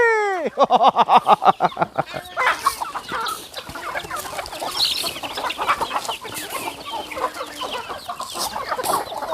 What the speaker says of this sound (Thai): วันนี้พามาดูการให้ข้าวไก่ยามเย็นครับผม